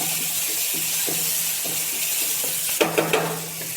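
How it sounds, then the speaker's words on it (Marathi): Tomatoes frying over high heat in a pan for a dal and egg dish give a steady, close sizzle, with light stirring scrapes and a louder burst of spatter near the end. "बघा, आता टोमॅटो आपले मस्त फ्राय झालेले"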